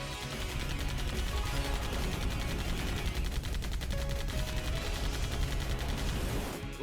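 Rapid, continuous Gatling gun fire from a video game, a dense unbroken mechanical roar of shots that holds steady and loud for several seconds before cutting off.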